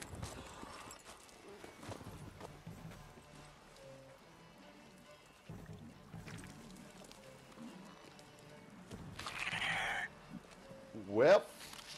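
Horse hooves clip-clop in The Witcher 3 gameplay, a soft rhythmic trotting under game music and ambience, with people talking over it and a brief louder effect near the end.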